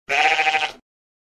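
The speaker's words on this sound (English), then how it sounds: "Sheep." A single sheep bleats once, a loud, close, wavering cry of under a second, followed by silence.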